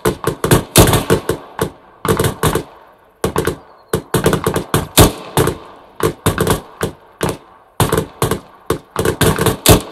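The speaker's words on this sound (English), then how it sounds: "Delta switch to deliberate fire" Several rifles in Arma 3 fire at a deliberate rate: sharp, evenly spaced single reports in loose clusters, overlapping from different shooters, loud and close with short silences between groups.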